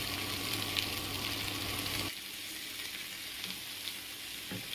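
Tomatoes and drumstick stalks frying in a pan with salt, a dense steady sizzle that softens abruptly midway, with a couple of faint utensil knocks afterward.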